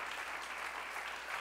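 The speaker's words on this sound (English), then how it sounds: "Clap your hands at Jesus one more time." Children at a church service clap their hands together in a faint, continuous patter of applause from a small crowd.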